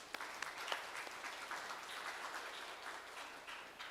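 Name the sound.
audience applause welcoming a speaker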